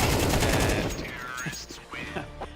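Rapid gunfire from a Counter-Strike 2 match in a collegiate esports series, with dense automatic bursts loud at the start and then thinning into scattered shots as a voice talks over the action.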